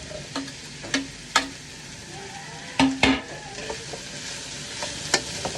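Canned corned beef with potatoes sautés in a pan, a soft continuous sizzle punctuated by scattered clicks and scrapes of a utensil stirring against the pan, close by with no talk.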